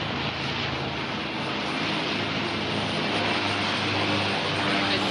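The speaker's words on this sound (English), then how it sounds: "You can clearly hear the helicopter." A steady, loud police helicopter roar with a broad rumbling rotor wash, holding constant throughout and close overhead, with no speech.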